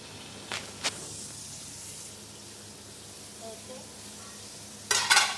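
Onions frying in oil in a pan give a soft, steady sizzle close by, with a few light scrapes of stirring and a brief louder clatter near the end.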